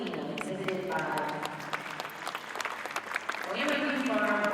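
Audience applause for the Grand Champion Ayrshire dairy cow at the Maryland State Fair show ring, a steady wash of clapping that swells louder near the end.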